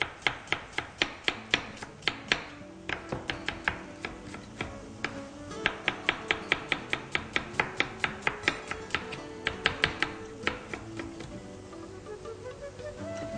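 A knife slicing an onion on a board, making a long run of crisp, close taps, mostly quick and evenly spaced with brief pauses between bursts, no voices.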